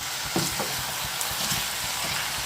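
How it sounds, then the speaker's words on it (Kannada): Chopped spinach (palak) fries with vegetables in a pan for palak dal, giving a soft continuous sizzle with faint stirring scrapes, close and steady, with no voices. "ಅದನ್ನು ಹಾಕಿ ಇವಾಗ ಫ್ರೈ ಮಾಡ್ತಾ ಇದ್ದೀನಿ."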